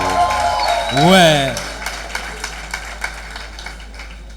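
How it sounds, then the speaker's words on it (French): Audience at a stand-up comedy night in Bukavu applauds a young performer, with scattered claps continuing after a brief spoken word and a swooping tonal sound effect. "Des applaudissements pour Gédéon, s'il vous plaît."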